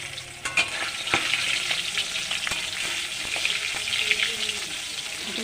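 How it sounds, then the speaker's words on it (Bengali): Fish pieces sizzle steadily in hot oil while being flipped, with a few sharp clicks and taps of the utensil standing out over the close, continuous frying hiss. "আমি মাছগুলো এক এক করে উল্টে দেবো"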